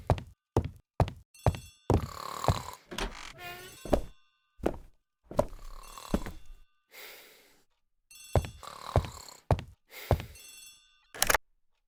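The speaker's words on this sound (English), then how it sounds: "The telephone in the hall is ringing." A telephone in a hall rings in a video game, giving loud repeated bursts of bright metallic bell rings in a regular pattern, with short pauses between the rings.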